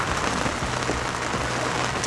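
Rain falls steadily on surfaces during a fishing outing, a dense, even patter close by with no talk over it.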